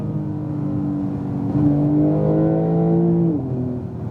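A 2018 Porsche 911 Turbo S accelerates on a race track, its engine note climbing loudly through a gear, with a whining tone rising and then dropping briefly before steadying, heard from inside the car.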